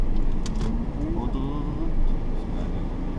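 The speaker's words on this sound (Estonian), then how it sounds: "et ma praegu manööverdan autoga." A car engine hums at low speed while the driver maneuvers it during a driving lesson, a moderate, steady drone heard beneath conversation inside the vehicle.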